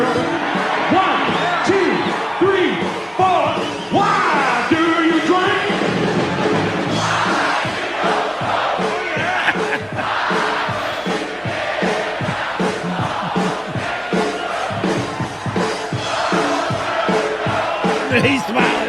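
Huge crowd at a concert in Washington DC on Memorial Day, yelling and roaring together in one loud, unbroken surge of massed voices with scattered whoops and shouts rising out of it.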